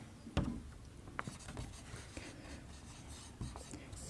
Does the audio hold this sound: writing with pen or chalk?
yes